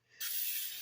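A short, close hiss of cooking spray coats a baking pan, starting abruptly and holding steady for under a second.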